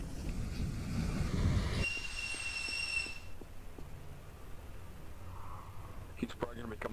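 A train rolls through a town in the Garry's Mod 1942 roleplay game, with a loud rumbling passage, a high wheel squeal, then a rhythmic clatter fading off while players talk over it.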